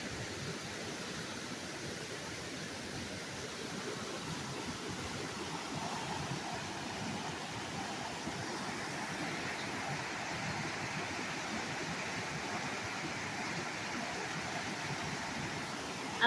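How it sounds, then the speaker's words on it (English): Spring water flows at Alley Spring Mill with a continuous, even rushing and babbling. The sound fills the space steadily and holds at moderate volume throughout the long outdoor stretch. "I love the sound of the water."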